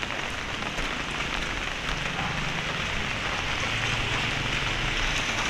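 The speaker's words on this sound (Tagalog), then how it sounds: "Sarap maglakad sa ulan." Steady, dense rain falling and pattering on a street in the Philippines, a constant broadband hiss throughout with a low rumble underneath.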